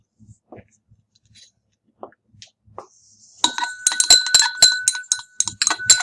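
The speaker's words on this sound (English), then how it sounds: "we are going to add some hydrochloric acid to this sample to get that to dissolve." Hydrochloric acid being added to a copper oxide sample in laboratory glassware, heard as a quick run of close, bright glassy clinks and taps after a few seconds of near silence with faint small sounds.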